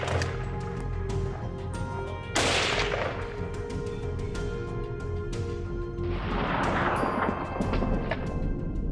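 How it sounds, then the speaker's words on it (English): Two loud rifle gunshots during a forest hunt for invasive giant bears, each a sharp crack followed by a long rolling echo, separated by a few seconds under steady outdoor background noise. "Then the shot rang out."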